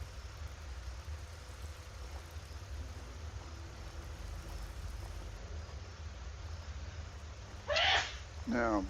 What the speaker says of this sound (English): having a sneezing fit in the background